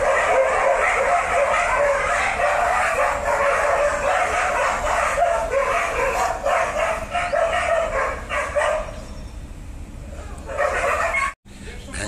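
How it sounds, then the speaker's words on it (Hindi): Several dogs bark, yip and snarl in a noisy fight nearby, loud and continuous for most of the stretch before easing off near the end. "जो शांति से बैठने नहीं देते कुत्ते।"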